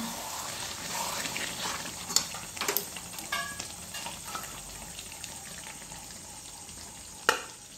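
Potato pieces go into a pan of chicken curry, made with tomato ketchup instead of tomatoes, in a home kitchen, bringing a quiet sizzle, soft stirring and a few sharp clinks and scrapes against the pan.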